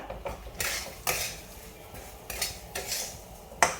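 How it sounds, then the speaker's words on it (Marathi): Broken wheat dalia stirred and roasted in ghee in a pan for jaggery lapshi, giving repeated scraping and clinking strokes of a spoon against the metal pan, close and moderately loud, with no talking. "हा भरडा मी आता याच्यामध्ये टाकून देणार आहे आणि चांगला परतून घेणार आहे लाल होईपर्यंत"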